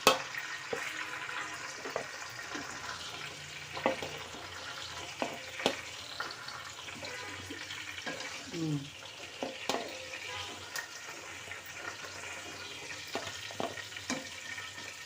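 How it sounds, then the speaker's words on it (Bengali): Onions sizzling and frying in a pan while being cooked for a lightly spiced roast, a steady soft crackle with occasional stirring clinks and bumps, close by. "এই যে পেঁয়াজটা প্রায় ভাজা হয়ে গেল।"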